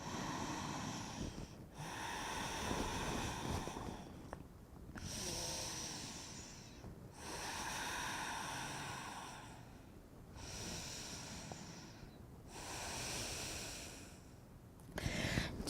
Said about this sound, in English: And take 3 breaths here.